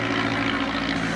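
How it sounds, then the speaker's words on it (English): A Curtiss Jenny biplane fitted with a Hispano-Suiza engine runs at an air show, a steady loud propeller and engine drone with a dense, continuous roar and no pauses. "Mademoiselle Phoebe sending him out with a very unique Jenny in that it had an engine mount for a Hispano-Suiza engine."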